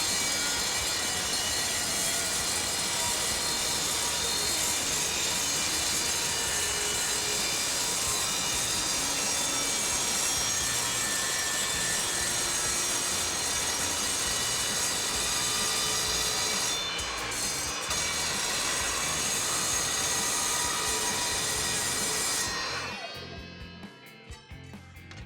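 A sliding mitre saw cuts through clamped metal stock with a loud, continuous high-pitched grinding whine. It runs steadily for over twenty seconds, then winds down at the end with no voices.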